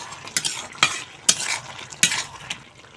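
A spatula stirs chopped bottle gourd in a pan for a Bengali fish curry, giving several distinct scraping clatters against the metal over a soft steady sizzle, close and fairly loud, with no talking.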